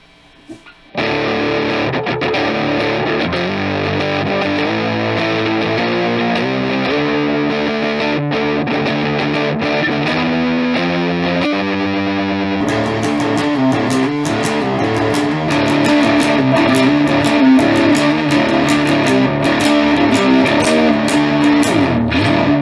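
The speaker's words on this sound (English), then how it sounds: "So let's turn the distortion to noon." Electric guitar played through a Behringer Heavy Metal HM300 distortion pedal with the distortion set to noon, giving a saturated chordal riff that runs steadily and gets brighter and louder in the last third, with no talking.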